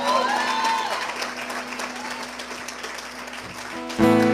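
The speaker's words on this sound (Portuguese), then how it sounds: "Dá uma salva de palmas para ele." Audience applauding at a church community's tenth-anniversary gathering, steady broadband clapping sustained throughout with a held musical tone underneath and a swell near the end.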